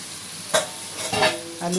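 Fried chicken and potatoes are stirred into hot masala in a pan, giving a soft continuous sizzle broken by a few scraping stirs of the spoon, close and fairly quiet.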